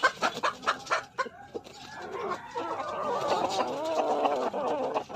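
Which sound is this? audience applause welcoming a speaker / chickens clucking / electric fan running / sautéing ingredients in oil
chickens clucking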